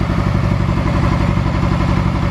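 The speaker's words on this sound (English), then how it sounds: "It's definitely idling rough" A Yamaha R6 sport motorcycle engine idling rough, loud and close, with a steady, uneven pulsing chug and a rattling clatter throughout.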